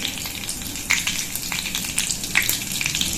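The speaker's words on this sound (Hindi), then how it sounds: "तेल गरम हो गया, इसमें हम जीरा डाल देंगे" Cumin seeds dropped into hot oil in a kadhai, a close, steady crackling sizzle with a few sharper pops and spatula touches.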